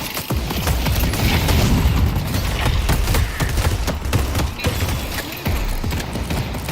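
A pulse grenade going off in the video game Deadlock, a loud, dense burst of crackling blasts and rumbling booms packed into a few seconds of hectic combat.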